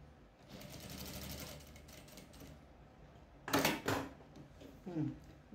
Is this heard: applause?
no